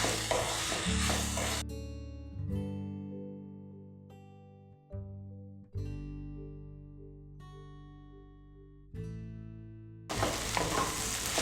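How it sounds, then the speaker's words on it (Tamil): Sliced onions sizzle in hot oil in a pan as they are fried until brown for an onion chicken fry. Loud frying noise opens and closes the moment, and a stretch of tonal background music sits in between. "இந்த வெங்காயத்தை வந்து இப்போ சிம்லையும் ஹைலையும் வச்சு நல்லா வந்து ப்ரௌன் கலர் ஆகிற வரைக்கும் நம்ம இதை வதக்கிக்கணும்"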